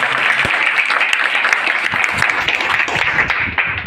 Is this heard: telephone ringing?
no